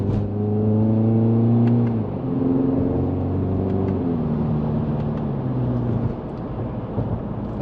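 A car accelerating with its CVT held in manual mode, engine drone rising in pitch through stepped simulated shifts at about two and four seconds, steady and close with no talk.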